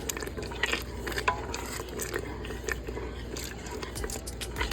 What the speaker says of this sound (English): Just mix that in well.